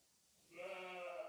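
A Clun or Texel ewe at lambing time lets out a single sustained bleat, fairly faint and alone after a moment of quiet.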